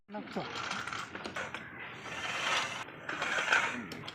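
Metal gear on a bore well motor lifting rig is worked while the motor is loosened for tool removal on a 300-foot bore, giving busy ratcheting and clanking mechanical noise, close and fairly loud throughout.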